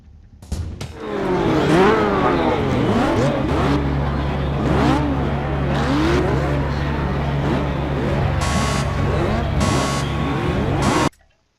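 Race car engines roar and rev continuously in the racing video game Project Cars, several cars whining through rising and falling gear changes together, loud and sustained before cutting off abruptly.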